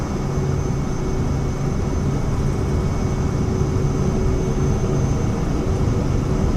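Steady loud jet engine drone from a FlightFX Vision Jet in Microsoft Flight Simulator, holding a constant high roar with tonal whine as power comes up for takeoff, no voices.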